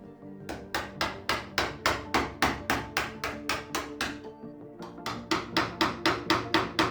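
A hammer taps steadily in quick, even strikes, roughly three per second, close and bright, pausing briefly before the rhythmic tapping resumes.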